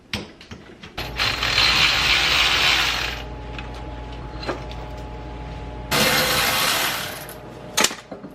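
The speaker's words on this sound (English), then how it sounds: "Now it's time to tighten these down." A ratchet wrench cranks down bolts on the rear transmission casing of a BMW E28 with an M30B35 engine during a manual swap, giving two long bursts of rapid clicking with a few sharp metallic knocks between them.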